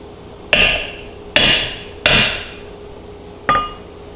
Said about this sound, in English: put it on my anvil here and try to drive that fitting out